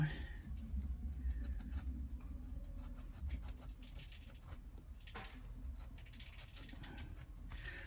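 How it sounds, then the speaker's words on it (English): Brass parts of an Ocean City 981 baitcasting reel are rubbed with a green kitchen scrubbing pad, a quiet, close scratchy scrubbing in quick repeated strokes with faint clicks and low background hum. "Kind of polish this brass all up"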